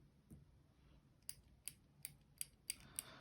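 A run of sharp mechanical clicks from a Caran d'Ache 844 mechanical pencil mechanism, about seven, spaced roughly evenly after a brief pause, close and crisp against quiet room noise.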